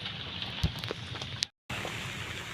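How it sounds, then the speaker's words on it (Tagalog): Heavy rain falls steadily during a fishing trip on the water, a dense hiss with scattered louder drops, breaking off briefly to silence before resuming. "Kalakas ng ulan ngayon."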